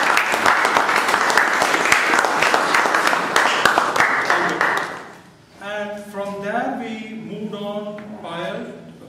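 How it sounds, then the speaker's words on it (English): Loud, dense applause from a club meeting audience rolls for about five seconds and then stops abruptly, after which a voice starts talking. "a round of applause."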